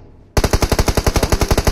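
Loud, close bursts of automatic machine-gun fire in the mobile shooter PUBG Mobile start after a brief quiet and run as a fast, even string of around fourteen punchy shots.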